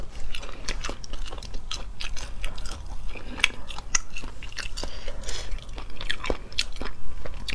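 Someone chewing crunchy chicken gizzard right at the mic during a seafood mukbang, with repeated sharp crunches and bites over a steady wet chewing rhythm and no talk.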